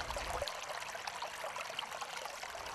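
Shallow stream water running over a rocky riffle, a steady soft trickling and babbling with small splashes, quiet and continuous with no voices.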